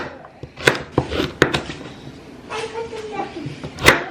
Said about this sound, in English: You can just chop them into big chunks